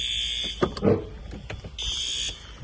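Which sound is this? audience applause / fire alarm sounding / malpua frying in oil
fire alarm sounding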